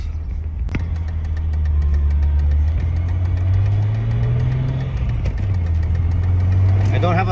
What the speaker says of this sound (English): We're getting on the freeway now.